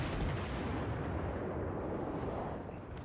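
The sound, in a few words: warship guns firing in a naval video game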